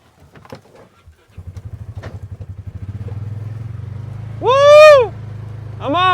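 An ATV engine catches after a few clatters and settles into a steady, rising low drone, close by. A voice whoops loudly over it near the end.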